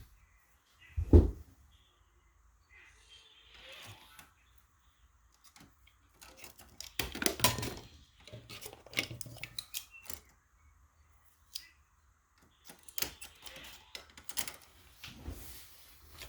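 A carving tool trims the bottom of a clay pot, giving scattered scraping and rasping strokes in short bursts, with an early sharp knock and quiet gaps between.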